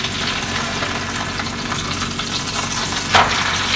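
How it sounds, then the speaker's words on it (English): A steak sizzling loudly in a frying pan, a dense steady crackle with a brief sharp scrape partway through as it is flipped; no voices. "So I'm going to flip my steak over to the best of my abilities."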